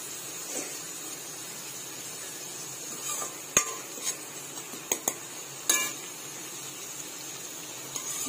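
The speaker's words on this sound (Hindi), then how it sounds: "ये रहा ऑनियन फ्राई हो रहा है" Onion fries in a pan while a spoon stirs it: a faint, steady sizzle runs throughout, broken by a few sharp metallic scrapes and clinks of utensil against pan, quiet and close, with no talking.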